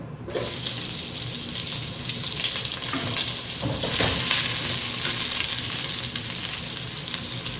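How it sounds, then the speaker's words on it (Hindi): Onions frying in hot mustard oil in a cooking pot, a loud, steady, close hiss and sizzle that holds without a break throughout, with no talk. "मैंने ऊपर तेल रख दिया, तेल गर्म हो गया, फिर प्याज डालेंगे"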